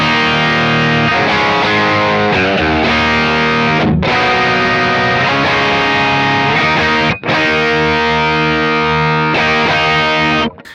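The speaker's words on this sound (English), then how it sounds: "And now with the Carbon and the gain on like" An electric guitar plays through a Browne Carbon V2 overdrive pedal with the gain near 11 o'clock, giving a loud, crunchy distorted tone of ringing chords with a couple of short pauses.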